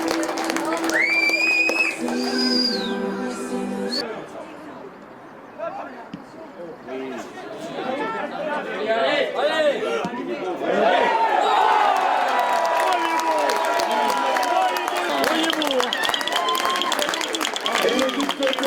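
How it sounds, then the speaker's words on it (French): An audience at a sporting event claps and cheers in a sustained burst of applause, mixed with crowd chatter, after a short passage of announcer-style talk at the start. "on peut applaudir"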